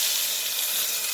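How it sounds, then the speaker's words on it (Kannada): Mustard seeds sizzle in hot oil for an aloo beetroot palya, a dense continuous hiss that stays loud and even through the whole short moment. "ಸಾಸಿವೆ ಹಾಕ್ತಾಯಿದ್ದೀನಿ."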